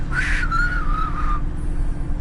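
A character in the video game Cloudpunk whistles a short wavering tune of a second or so. The whistle is clear and close over a low ambient hum, with no speech.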